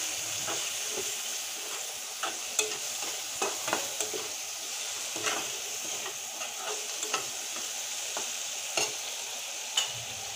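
Potato curry sautés with salt and turmeric in a pan, a continuous soft sizzle punctuated by a regular series of spatula taps and scrapes against the metal.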